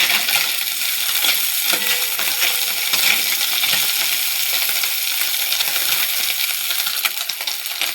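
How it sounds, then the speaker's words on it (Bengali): Small fish sizzle steadily in hot mustard oil in a kadai, a loud, dense, continuous crackle of frying with no voices over it. "মাছগুলো ভেজে নেব, চুনো মাছ ভেজে নেব।"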